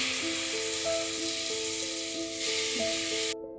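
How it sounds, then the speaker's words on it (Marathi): Grated carrot frying in ghee in a pan, with a constant bright sizzle and soft steady tones faintly underneath, cut off abruptly at the end. "थोडा वेळ आपण असं गाजर हे पूर्णपणे परतून घेऊया"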